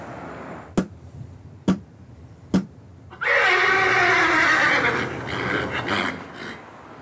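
Three sharp taps ring out, then a horse neighs loudly up close in a long, wavering whinny that fades out over several seconds.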